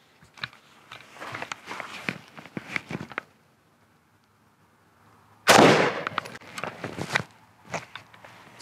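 A rifle fires 5.56 rounds at a Level III polyethylene body armor plate from 15 meters. Several sharp, loud reports ring out alone, with a quiet pause between groups.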